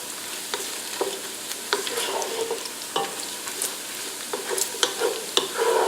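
Bacon frying until crispy in a pot, a steady close sizzle broken by sharp pops and spatters along with occasional scrapes of stirring, with no talking.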